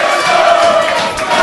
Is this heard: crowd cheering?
yes